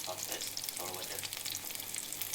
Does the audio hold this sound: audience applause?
no